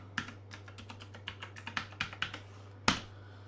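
Someone types a username and password on a computer keyboard: a quick run of about a dozen light, close key clicks, followed by a pause and one sharper, louder keypress.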